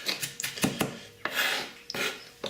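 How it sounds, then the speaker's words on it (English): A kitchen knife rocks through chopped herbs on a wooden board, making quick, uneven scraping taps close up, with no voices. "and just finally chop it up. Use the rocking motion"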